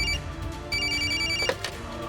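A telephone rings in two bursts of an electronic bell-like tone, the second fading out before a brief clatter, with a faint background hum and no talking.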